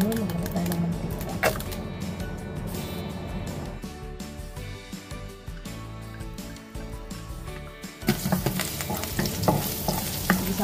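Mussels sauté in hot oil in a pan, with a steady sizzle and the clatter of a utensil stirring, growing louder and brighter near the end.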